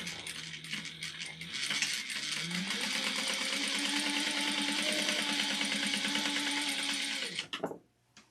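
Electric sewing machine stitching a seam on a fabric bin, starting with a few slow stitches, then speeding into a steady whirring run for about five seconds before stopping abruptly, close and loud.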